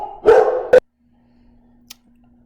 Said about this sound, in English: you still might hear my dogs barking in the background